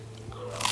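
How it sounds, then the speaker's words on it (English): A single crunchy bite into a papaya boat topped with yogurt and granola, a close, brief crisp crunch rising at the end with faint chewing texture and no talk. "The yogurt, it's so creamy, and then you get the crunch and texture from the granola."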